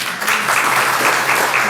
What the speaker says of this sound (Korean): 나오실 때 박수 영광 드리겠습니다.